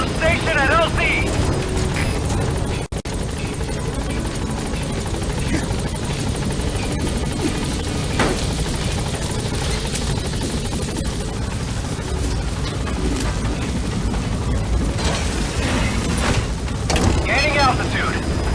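A helicopter in Metal Gear Solid 5: The Phantom Pain arrives at a landing zone: steady, loud rotor roar and engine drone fill the whole stretch, with radio voices heard over it.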